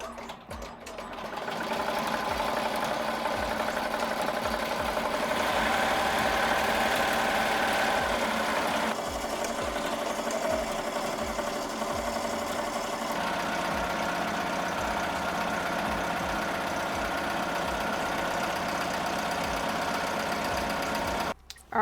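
Sewing machine running at reduced speed while stitching sequin fabric, a continuous steady mechanical whir with rapid needle rhythm, close and even for the whole stretch, no talking.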